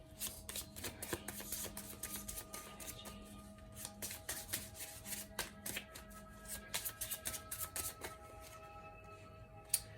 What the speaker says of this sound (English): I want to pull from the Island Time Wellness cards just to see if we can get some more energy